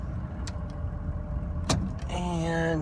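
A 2003 Ford F250 diesel pickup idles quietly with a low, steady rumble, broken by a few sharp clicks and knocks, before a higher whining tone rises near the end.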